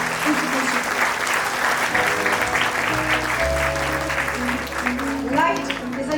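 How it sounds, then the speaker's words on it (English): A large audience applauds an institution at a 75th-anniversary platinum jubilee celebration, sustained dense clapping filling the hall with a few voices and a low hum running underneath. "A round of applause for this institution."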